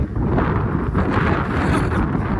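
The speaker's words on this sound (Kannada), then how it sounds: "ಗಾಳಿ ಬೀಸ್ತದೆ." A continuous, heavy rumble of wind blasting across the microphone on the hilltop peak at Chandragutti fort, low and roaring, with no voices.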